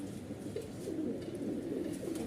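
Pigeons coo in a low, steady murmur, several soft overlapping calls rolling on continuously and close by, from Malwai Punjabi and Madrasi pigeons kept for sale, including a red Chinna male.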